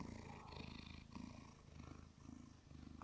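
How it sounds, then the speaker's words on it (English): A cat purrs close up in a soft, rhythmic rumble that rises and falls with each breath, quiet and continuous. "Can you hear him purr?"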